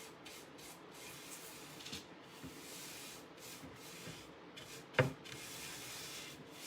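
A cloth rubbing a freshly painted picture frame dry in repeated short soft strokes, quiet and close, with one sharp knock partway through.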